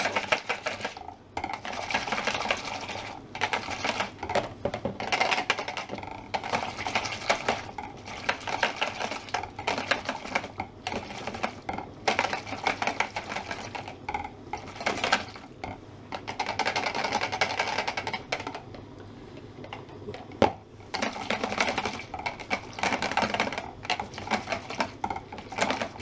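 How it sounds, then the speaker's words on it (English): Whisking xanthan gum into a lemon chicken sauce, a busy, continuous metallic scraping and clattering of a whisk against the pan in rapid bursts, close and fairly loud, with short pauses between spells. "keep whisking until the sauce thickens up"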